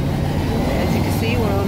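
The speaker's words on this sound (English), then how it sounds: "we're on the bus" Inside a moving bus on a cold day: a steady low engine drone and road rumble fill the cabin, with a person talking over it.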